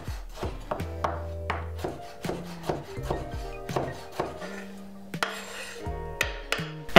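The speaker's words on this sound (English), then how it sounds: "So I'm gonna chop that up as well." Cucumber being chopped on a cutting board, a series of irregular knife taps close by with some scraping and pauses between strokes, no talking.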